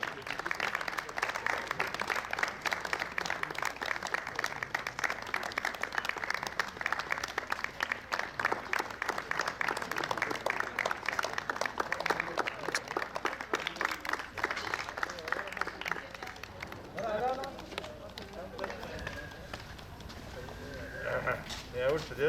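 Sustained crowd applause for medal winners at a sports championship prize ceremony, steady clapping for most of the stretch before easing off as talk takes over near the end.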